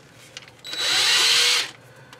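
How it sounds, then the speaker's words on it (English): A step drill whines through metal while fitting Vintage Air parts to a car, one steady burst of about a second, rising sharply and cutting off, with quiet shop ambience before and after. "I can use my step drill,"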